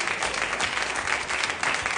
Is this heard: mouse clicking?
no